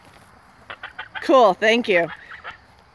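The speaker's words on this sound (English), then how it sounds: "Besides hearing the talkative goose." A talkative goose honks in a rapid run of loud, nasal, close calls, with a person speaking briefly in the background.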